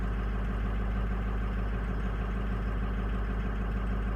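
A cold engine idles with IPR at 30%, making a loud, steady, continuous low rumbling drone throughout with no change in pace.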